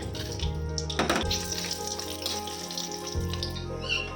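Bay leaves and whole cardamom hit hot oil and ghee in a pan and set off a continuous close sizzle and crackle, with a few brief thuds from handling. The sound holds steady throughout and no one speaks.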